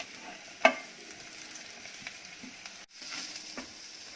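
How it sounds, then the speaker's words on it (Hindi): Vegetables being stir-fried on a low flame in a pan: French beans, cabbage, capsicum, mushroom and spring onion. A faint, steady sizzle runs throughout, with a sharp scrape of a spatula near the start and a few softer clinks of stirring later. "इन सब्जियों को 2-3 मिनट पकाएंगे और मिक्स करेंगे।"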